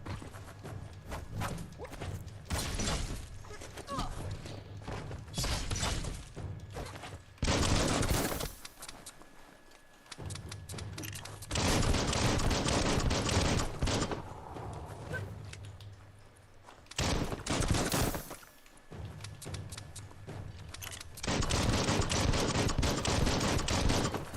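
Gunfire in the video game Biomutant, several loud bursts of rapid shots separated by short pauses, close and punchy, with other game sounds between the volleys.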